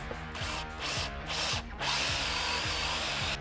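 A power drill with a 3.5-inch hole saw grinds steadily through wood, its pitch dipping and surging in rhythmic pulses as the cutter bites, close and loud throughout.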